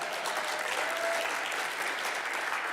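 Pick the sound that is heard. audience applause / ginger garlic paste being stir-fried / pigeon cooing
audience applause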